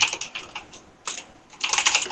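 Fast, heavy typing on a computer keyboard, dense bursts of close clicking in three clusters separated by short pauses, with no voices.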